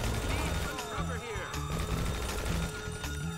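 Rapid bursts of gunfire in GTA 5 Online during a Union Depository heist, several sharp shots in quick succession against steady game background noise.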